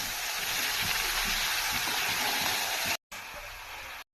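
Chopped bottle gourd sizzles as it is added to a hot pan with dried red chillies, bay leaves and chopped onion. A loud, steady hiss of frying runs throughout, broken by two brief silent gaps near the end.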